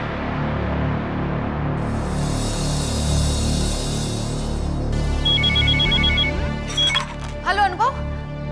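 A phone call back rings out in a repeating electronic ringtone pattern, close and clear, after a stretch of steady hiss, and a voice briefly speaks at the end.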